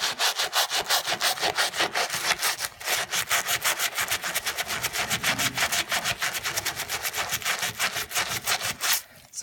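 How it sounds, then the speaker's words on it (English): Rapid back-and-forth scrubbing on a thick build-up of scale during descaling, harsh and rasping like sawing, steady strokes loud and close throughout with a brief pause near the middle. "I'm just having to scrub"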